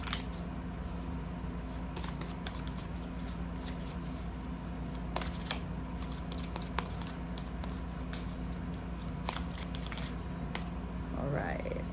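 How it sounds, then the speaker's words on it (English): Animal Spirit Oracle cards shuffled by hand, soft repeated riffling and slapping flicks throughout under a steady low background hum, close and fairly quiet. "I'm going to go ahead and pull a couple Animal Spirit Oracle cards."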